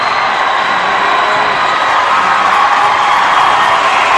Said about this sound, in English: ConVal crowd has been very supportive of their team.